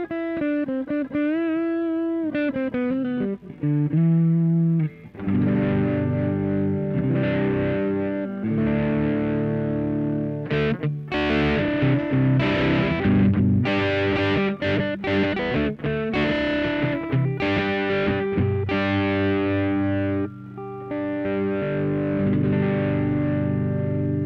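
An electric guitar with single-coil pickups plays a distorted crunch tone through a ROWIN Shaper speaker-simulation pedal, opening with a bent sustained note, then chords and riffs sounding loud and continuous with no talking.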